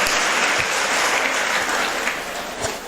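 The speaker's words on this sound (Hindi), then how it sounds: "तो उधर से ताली बजाओ।" An audience at a Hindi-language talk claps continuously, producing a dense, even patter of applause throughout with no voices over it.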